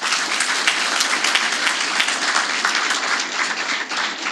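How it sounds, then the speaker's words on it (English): Steady, dense applause from a large crowd, loud and continuous throughout with many hands clapping at once. "Give them one more round of applause"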